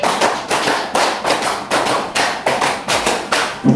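Elementary pupils in a classroom clap a rehearsed rhythm of three and two beats, crisp hand claps repeated in tight clusters across the span, near and steady in loudness, without talking.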